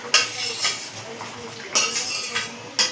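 Fried cauliflower tipped into a pot of boiled potatoes, with a few sharp clinks of a utensil against the pot and soft stirring scrapes in between, close and fairly quiet.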